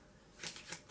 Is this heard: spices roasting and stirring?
no